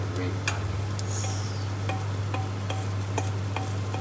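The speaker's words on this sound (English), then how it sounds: "Once you can see that it's sizzling there, and you add on the red onions." Hot oil sizzles steadily in a pan while fried rice is being started, with occasional light clinks and taps of a utensil against the pan over a constant low hum.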